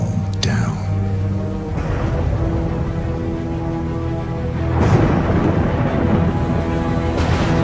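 Thunderstorm ambience in the Hitman game: low rumbling thunder rolls under steady rain-like noise, with a brighter crack near the start and another swell of rumble partway through, loud and continuous.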